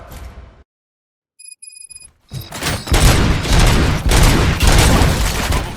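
Loud, dense gunfire bursts out in the Robocop: Rogue City video game after a brief near-silence with faint electronic tones, then continues as sustained rapid volleys.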